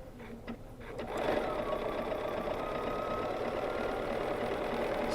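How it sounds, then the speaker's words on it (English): A BERNINA sewing machine runs steadily in free-motion quilting, stitching a circle along a ruler on fabric; a fast, even motor whir and needle patter starts after a few light clicks and continues alone. "The lines on the ruler, the vertical lines on the ruler, will align with your vertical line on your fabric. And I am going to stitch a circle."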